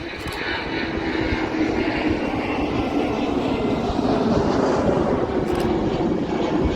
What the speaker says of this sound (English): Just taking off there, it's an Airbus A320-200.